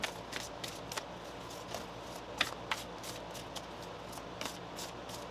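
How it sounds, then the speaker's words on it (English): Tarot or oracle cards being shuffled by hand, a close series of quick papery riffles and snaps repeating irregularly over a quiet background. "Let's get one more shuffle here."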